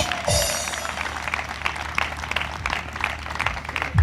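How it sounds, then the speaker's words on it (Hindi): Steady applause from a church congregation fills the hall during a worship service, with sustained dense clapping throughout and a brief whistle and a few faint voices mixed in. "तालियां लगातार बजती हैं।"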